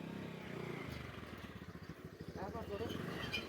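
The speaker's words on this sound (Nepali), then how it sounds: "ए पर साइडबाट बाइक आइरहेको।" A motorcycle engine approaches along a village road in Dang, Nepal, a faint pulsing putter rising and drumming closer while people talk nearby.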